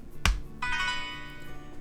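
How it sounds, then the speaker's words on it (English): A charging cable clicks into a BlindShell Classic phone with one sharp snap, followed by a clear, sustained electronic charging tone that rings on steadily at close range. "You'll also hear an audible tone letting you know that the phone is charging."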